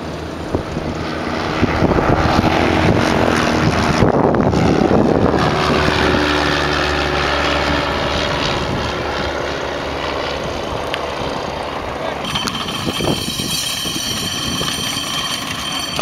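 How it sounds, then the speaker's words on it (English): A small tailwheel propeller airplane that lands at about 50 miles an hour drones loudly and close at an end-of-summer fly-in at Sierra Sky Park, its engine note rising and then shifting as it passes. "This is a little tail dragger and lands at 50 miles an hour."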